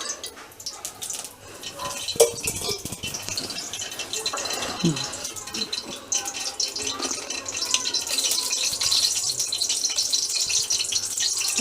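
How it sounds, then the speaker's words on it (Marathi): Cumin seeds crackle and sizzle in hot oil in a kadhai while a red radish stir-fry is being made, a steady bright hiss with scattered pops, near and continuous, with someone talking over it. "बघा, जिरं छान तडतडलं ना असं"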